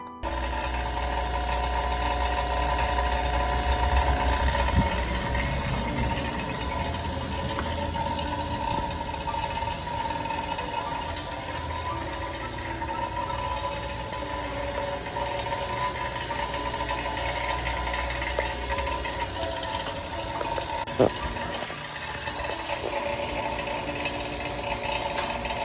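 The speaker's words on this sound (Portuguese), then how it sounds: "a bomba de vácuo embaixo, com as mangueiras ligadas, simulando o processo de vácuo" A Surya smart vacuum pump runs with its hoses connected to an air conditioner. It keeps up a continuous mechanical hum and rattle with a low throb at the start, plus one sharp click near the end, and no one speaks.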